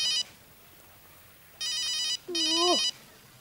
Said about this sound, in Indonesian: Eh, telepon.